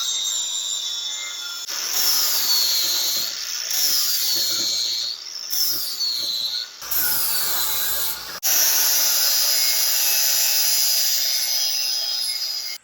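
A 4.5 inch right angle grinder with a 40 grit disc whines loudly and grinds in several bursts separated by short pauses. Its pitch dips under load and recovers, and it runs close by with no talk.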